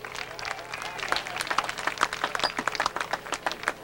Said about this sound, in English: A round of applause, Lee Weldy.